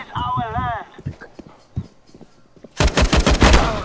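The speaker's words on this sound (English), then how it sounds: "How the hell did he snipe me with a shotgun?" A shotgun blast in CS:GO lands near the end as a loud, close burst with clattering echoes, after excited voices and some game noise.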